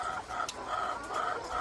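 Chickens clucking in a short run of repeated, fairly faint calls, with no voices over them.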